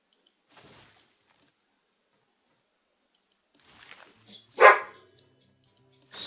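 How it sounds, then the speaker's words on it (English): Household dogs barking in a quiet room: a faint isolated yip, a long silence, then a few short barks ending in one loud sharp bark, with no talk. "if you hear random dogs barking, please ignore it."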